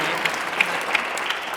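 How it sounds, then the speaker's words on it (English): Audience applause at a debate on Christianity, a dense and steady patter of many hands clapping at once, with a few sharper claps standing out over the continuous wash. "A round of applause for Daniel Prince."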